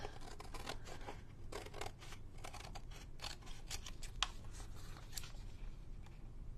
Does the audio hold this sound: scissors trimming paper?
yes